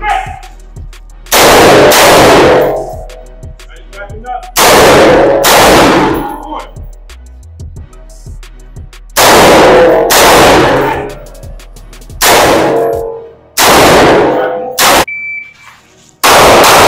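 Gunshots fired at steel targets during shot timer practice ring out in loud, sharp bursts, each followed by a metallic clang, spaced irregularly a few seconds apart with short pauses between strings.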